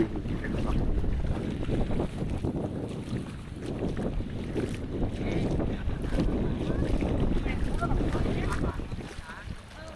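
A small local fishing boat on the sea off Chao Lao Beach gives a continuous low rumble of motor and water, with heavy wind buffeting the microphone throughout.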